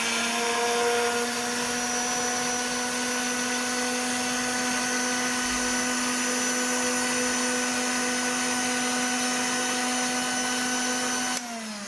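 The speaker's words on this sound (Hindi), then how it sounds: "इसको पहले हम एक दफ़ा ब्लेंड कर लेंगे।" A kitchen blender whirs steadily while blending mint margarita ingredients before the ice is added. It holds a constant, close, loud motor whine for about eleven seconds, then cuts off at the end.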